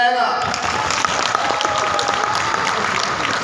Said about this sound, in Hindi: जो इस बात से इत्तेफाक करता है वो तालियां बजाएगा